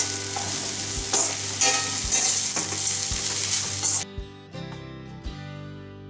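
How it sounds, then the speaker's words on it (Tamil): Indian gooseberry (amla) rice being stirred and sautéed in a hot pan: loud continuous sizzling with scraping spoon strokes, then the sizzle cuts away to a few quieter scrapes and clinks. "ஸோ இப்போ இதை வந்து நம்ம நல்லா வதக்கிக்கலாம்."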